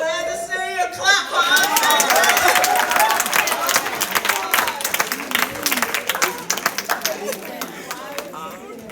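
Audience clapping at a Black History Month spoken word event, a dense burst of applause that swells early, then thins into scattered claps, with chatter and voices mixed in.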